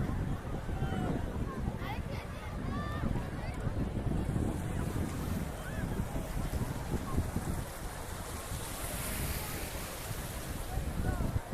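A boat crosses choppy water in strong wind, with gusty wind buffeting and the wash of waves forming a continuous rough backdrop. Voices call out faintly now and then beneath the noise.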